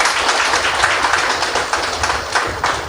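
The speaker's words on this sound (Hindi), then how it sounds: "वह जोर से ताली बजाए।" Audience clapping loudly at a spiritual gathering, a dense, sustained wash of applause from many hands with no talking.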